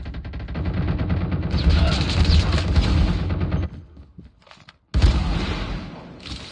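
Rapid gunfire from the mobile shooter game Call of Duty Mobile, sniper rifle shots among bursts and booms, loud and dense for several seconds, a brief quiet gap, then firing resumes.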